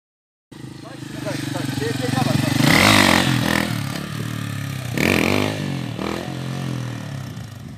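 A motorcycle engine revving loudly and close during a clutch-kick stunt, rising in two strong surges with mechanical clatter, while someone talks over it.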